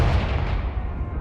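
Confringo blast spell going off in Hogwarts Legacy, a single heavy, rumbling explosion with a booming low end that fades slowly, heard alone without talk.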